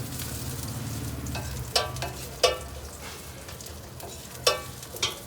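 Shami tikki sizzling on a hot plate, a steady close fry hiss broken by several sharp crackling spatters at irregular intervals, with no voices.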